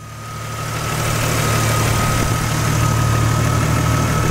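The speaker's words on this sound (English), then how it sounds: "So you can hear your compressor clicking on and off." A Jeep Wrangler's engine idles steadily up close with the air conditioning running, a constant low hum with a faint high whine on top and no voices; the compressor's clicking is not distinct.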